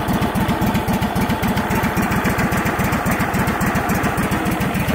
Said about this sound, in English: Now that is a smooth idle.